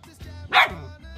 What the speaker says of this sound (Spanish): Ha ladrado más agudo.